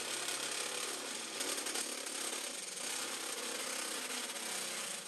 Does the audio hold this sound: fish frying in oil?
no